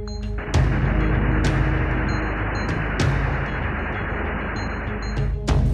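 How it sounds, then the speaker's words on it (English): A CIWS rapid-firing multi-barrel 20mm cannon aboard a US Navy destroyer fires a continuous, dense, roaring burst of shots, loud and close, with sharp cracks cutting in at intervals. "These fully automated guns use a combination of radar and rapid-firing multi-barrel cannons"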